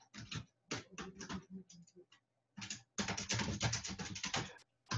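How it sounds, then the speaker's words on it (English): A loud mechanical computer keyboard clatters in irregular bursts of rapid keystrokes, close and clear, broken by short pauses and then a longer dense flurry of typing. "This mechanical keyboard that is very loud."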